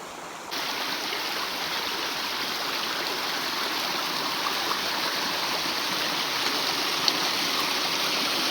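A clear sandy-bedded forest river flows steadily, a constant broad rushing of water that holds at an even level throughout, close by and with no voices.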